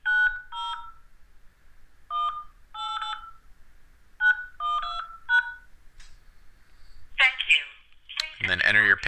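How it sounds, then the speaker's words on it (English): Telephone keypad tones entering an account number into a phone-in message recording system: a series of short dual-tone beeps in irregular clusters, clear and close, followed by brief bursts of other sound near the end. "Please enter your account number followed by the pound key."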